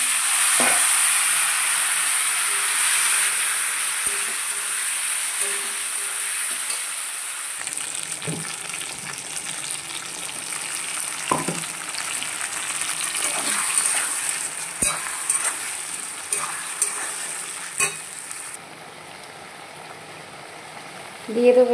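Vegetables for a pangas fish curry with raw banana and potato fry in hot oil over toasted cumin, a steady bright sizzle with occasional stirring knocks and scrapes against the pan, close and continuous.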